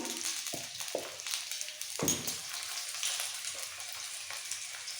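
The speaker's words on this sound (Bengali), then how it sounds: "একটু তেলের মধ্যে নাড়াচাড়া করে দিয়ে দেবো নুন আর হলুদ" Spices sizzle and fry in hot oil while being stirred, with a few sharp scraping stirs over a soft continuous frying hiss, close and fairly quiet.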